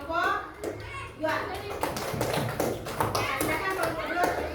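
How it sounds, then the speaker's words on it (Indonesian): A classroom group of children claps for another group in a burst of scattered, uneven hand claps, mixed with children's voices talking over it, fairly close. "Oke, tepuk tangan untuk kelompok"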